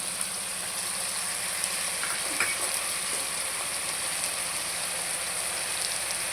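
Chopped tomatoes frying in a pan for pumpkin sambar give a steady, close sizzle with faint scattered clicks of stirring, running evenly throughout with no voices.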